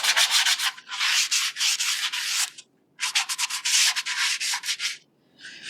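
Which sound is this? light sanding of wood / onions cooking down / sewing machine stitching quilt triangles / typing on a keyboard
light sanding of wood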